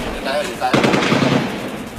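Rapid machine gun fire crackles during urban combat in Marawi City, loud bursts of dense shots with the echo of nearby fighting.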